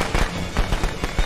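A fireworks trap goes off in the Friday the 13th video game, a rapid string of loud crackling bangs and pops bursting in uneven succession.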